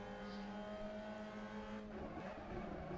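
A Mazda MX-5 race car engine in the Assetto Corsa racing game drones at a steady pitch, then shifts as the revs change near the end, heard alone at moderate level.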